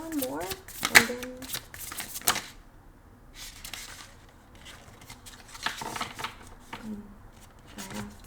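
Tarot cards being shuffled by hand, brisk riffling and snapping bursts in short clusters with pauses between, close by, with some speech and background noise.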